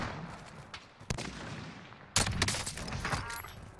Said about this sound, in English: He's shooting something loud